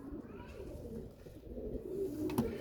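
Pigeons cooing in a rooftop loft, soft low throaty coos repeating steadily at moderate distance over a faint background hum, with a brief sharper sound near the end.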